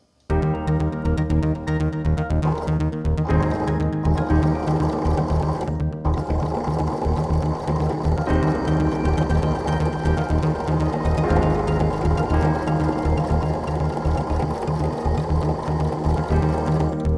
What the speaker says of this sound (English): And then I'm going to sew a 1/4 inch here.